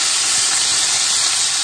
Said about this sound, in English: all the grease popping at the top of the